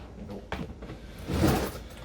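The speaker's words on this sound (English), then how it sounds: "open the drawer" A kitchen drawer slides open nearby with a short scraping rattle and a soft thud, heard alone in a quiet room.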